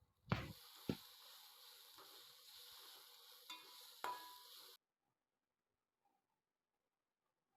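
Papadam sautéing in oil in a pan, a soft continuous sizzle broken by several sharp scraping knocks of stirring, then silence as it stops.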